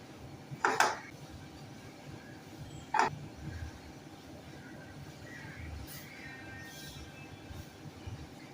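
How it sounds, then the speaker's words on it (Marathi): Barnyard millet upma is served onto a plate, with two distinct metallic clinks of a utensil against cookware over a quiet background hum. "गॅस बंद करूया प्लेटमध्ये सर्व करूया"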